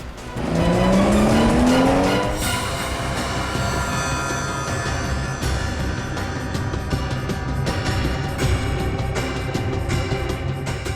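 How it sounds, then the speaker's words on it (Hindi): A car suddenly speeds away in a dramatic chase scene: the engine rises sharply in pitch, then settles into a loud, sustained roar with squealing tires and road rush, heard alone without voices. "ये गाड़ी इतनी तेज क्यों भगा रहा है अचानक?"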